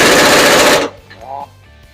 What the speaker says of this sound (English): take your 15/16 socket, put that on the nut, hold the eye bolt